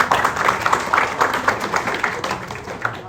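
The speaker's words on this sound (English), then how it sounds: "Let's all clap for you." Audience at a community meeting in a Portlaoise mosque clapping steadily, a continuous wash of many hands throughout with no talking over it.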